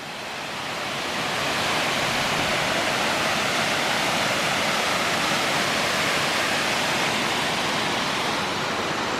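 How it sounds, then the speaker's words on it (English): A tall waterfall in Whiteoak Canyon, Shenandoah National Park, cascades down the rock, making a loud, continuous broadband roar that swells in at the start and holds steady, with no voices. "this is the first waterfall. This is the tallest one."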